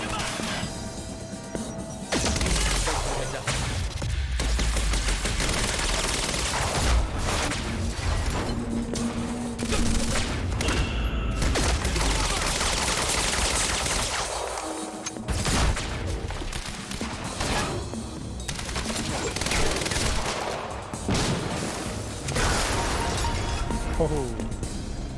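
Rapid gunfire bursts in the video game Quantum Break, with crashes and pops sounding steadily for most of the stretch, loud and dense, while someone talks over the shooting at times.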